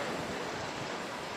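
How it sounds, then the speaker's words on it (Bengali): Sea waves roar steadily on Guliakhali beach in Chattogram, a continuous broadband wash of surf mixed with wind noise, with no breaks and no talk. "এই সমুদ্রের গর্জন"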